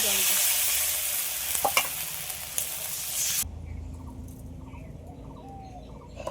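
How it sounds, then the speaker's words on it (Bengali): Water is poured into a pan of papaya curry with turmeric. A loud, steady sizzle and stirring run for a few seconds, then drop abruptly to a quieter bubbling, with faint birdsong in the background. "এবার আমি জল দিয়ে দিচ্ছি,"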